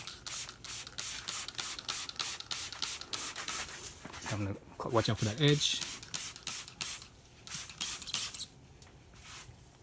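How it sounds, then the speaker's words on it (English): Fabric protectant sprayed from a trigger bottle onto the soft top of an ND Mazda Miata, a run of quick close hissing bursts, with someone talking briefly midway. "I'm just gonna spray a little corner here just so you guys can see how it works."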